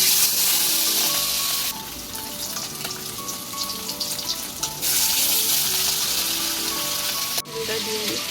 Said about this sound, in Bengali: মাছগুলো ভেজে নেবো, এগুলো শুধু ভাজাই থাকবে